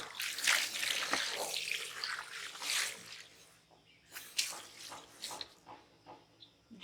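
Water splashes and runs in uneven bursts as it is poured to dilute a concentrated doTERRA cleaner, close and moderately loud, with a short gap before a few quieter splashes and pours follow.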